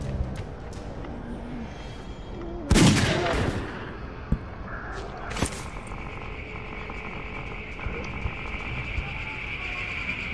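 Gunshots fired at a zombie in the video game Dead Age: a loud sharp blast, then a few smaller cracks and a second shot, over low game ambience and hum.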